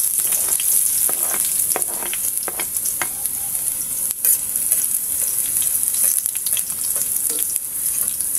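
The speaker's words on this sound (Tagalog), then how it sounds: "nakapagpainit na tayo ng ating kawali at saka mantika. Maglalagay tayo ng bawang." Garlic fries in hot oil in a heated pan for adobo, giving a steady, close sizzle with occasional stirring clicks and no voices.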